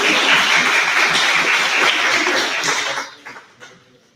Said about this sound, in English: How about give Brother Kennedy a great hand clap as well?